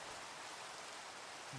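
Summer evening rain falling in a continuous soft hiss, faint and even throughout with no voices.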